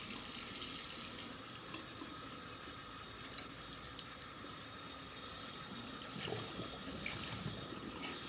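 Tap water runs steadily into a sink while a makeup eraser cloth is rinsed under it, a constant close splashing flow that swells slightly toward the end, with no voices.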